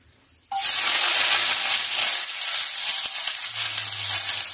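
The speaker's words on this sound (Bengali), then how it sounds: "এইভাবে তেলটা মাখিয়ে নেব। দিয়ে দেবো সরু চালের ব্যাটা" Oil and thin rice batter hit a hot pan and burst into a loud, steady hiss that holds close and alone, easing slightly as it settles.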